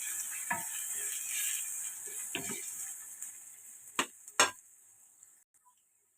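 Moong dal and curry leaves stirred in a pan for a fenugreek leaf, onion and moong dal curry, a soft continuous scraping and sizzle with a few sharper clinks of the spoon against the pan near the end, no talking.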